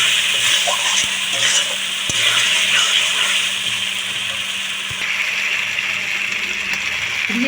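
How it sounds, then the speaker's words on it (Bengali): Spices with salt being stirred and mixed in a hot pan for chicken curry give a steady, close sizzling hiss with soft scraping throughout, and no one speaks. "খুব ভালো করে আমি মশলাগুলো একটু মিশিয়ে নেব।"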